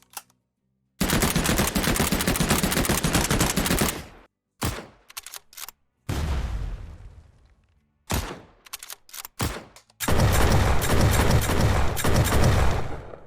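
Rapid automatic gunfire bursts from a home-made shooter video game, loud sustained volleys alternating with short clipped single shots and brief gaps, with overlapping shot sounds.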